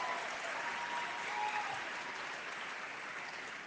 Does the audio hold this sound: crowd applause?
yes